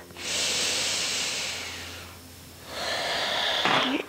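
Deep breathing during a vinyasa yoga flow: a long, steady airy exhale lasting over a second, a short pause, then a second strong breath rising toward the end, close and clear with no talking.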